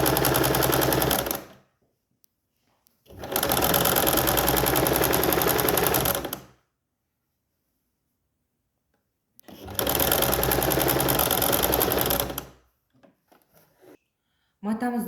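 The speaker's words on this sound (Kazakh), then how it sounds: "Енді осыны тігіске тігеміз." A sewing machine stitches a fabric bag seam about one centimetre from the edge. The motor runs in three steady, loud bursts of a few seconds each, separated by quiet pauses.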